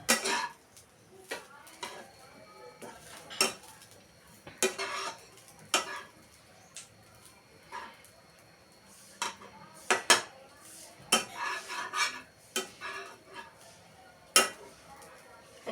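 Lemon rice with cumin being stirred in a pan on low gas, giving sparse, sharp clinks and scrapes of the spoon against metal at irregular intervals, close by, with occasional quiet talk between.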